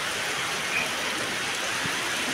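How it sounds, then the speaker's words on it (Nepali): Heavy rain falls in a constant, even hiss of dense drops, close by and unbroken, with no voices. "तर पानी पुरा पर्दैछ।"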